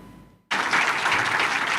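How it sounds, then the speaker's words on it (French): Sustained, loud applause from Treasury directors and department heads of Côte d'Ivoire at an official gathering, bursting in abruptly after a brief quiet moment and continuing steadily with dense clapping. "Des salves d'applaudissements des directeurs et chefs des services du Trésor public de Côte d'Ivoire pour le maire de San Pedro, Nakariga Sissi,"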